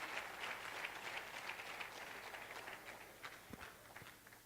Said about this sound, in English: Kindly clap for our director.